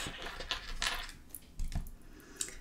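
A deck of tarot cards being cut: a few soft, brief papery slaps and shuffling rustles, close and quiet, with short pauses between them and no voices.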